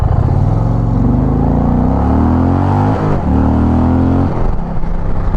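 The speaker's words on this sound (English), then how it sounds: "This bike launches like it wants to throw you off of it." An Indian Challenger motorcycle accelerates hard, its engine roaring loud and close as the pitch climbs, dips briefly at a gear change, then climbs again, with no talking.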